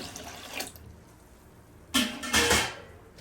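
Water is poured into a pressure cooker of lentils, fairly quiet after a soft early splash, then two short, close gushes near the end.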